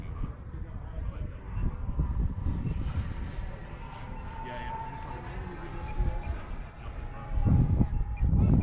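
A Freewing F/A-18C Hornet 90mm EDF RC jet in Blue Angels livery comes in to land, its ducted-fan whine steady and fairly close over broadband rumble, swelling louder near the end amid outdoor wind and faint voices.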